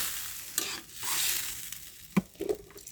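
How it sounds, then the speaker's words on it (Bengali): Cauliflower is stir-fried in a pan for a fish curry, with a spatula scraping and turning it through a hissing sizzle. A few close knocks sound against the pan. "ফুলকপি কষিয়ে নিচ্ছি"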